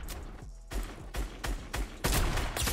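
Sniper rifle shots in Fortnite: Battle Royale, a series of sharp game gunshots, about six close, loud reports at irregular intervals with short decays between them, and no voices over them.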